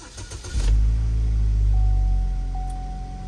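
A car engine cranks with a few quick rattling turns and catches, settling into a steady low idle after its fuel system is repressurized, loud and close with a faint thin whine over the rumble.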